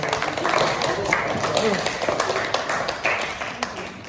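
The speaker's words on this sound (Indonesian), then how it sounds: "tepuk tangan untuk kelompok 3" A classroom group claps for the third student team, a scattered, fairly close round of hand claps mixed with voices and shuffling that thins out toward the end.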